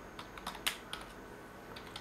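Rapid keystrokes on a computer keyboard while Java code is entered in the Eclipse editor, a quick irregular run of light clicks with one sharper tap, close and alone with no talking.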